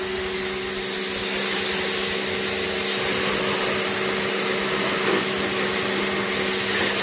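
Pressure washer spraying water onto car paint at high flow and low pressure to clear love bugs, making a loud, steady, close hiss of spray with no pauses and no talk.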